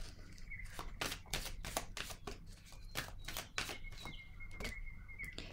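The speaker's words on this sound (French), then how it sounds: "Je vais piger une autre carte." Cards from a deck are handled and shuffled close by, a run of quick papery riffles and flicks in an irregular rhythm, fairly crisp against a quiet room.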